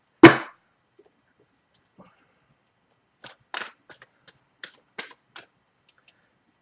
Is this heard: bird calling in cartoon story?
no